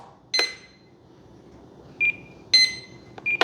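Several short electronic beeps at irregular intervals from a model glider's radio electronics, some sharp and broadband, others clean steady tones, sounding close against a quiet background.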